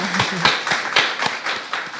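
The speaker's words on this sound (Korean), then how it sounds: "네, 박수하겠습니다." A small church group claps to welcome new members, a close, fairly loud series of distinct, rhythmic claps with a brief voice at the start.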